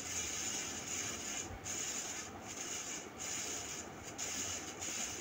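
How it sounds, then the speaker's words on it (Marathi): Tailor's chalk drawn along fabric for a blouse lining, giving a steady close scratchy rubbing that runs continuously with a few brief pauses between strokes. "मी कशा पद्धतीने चॉकने सरळ रेष ओढत आहे।"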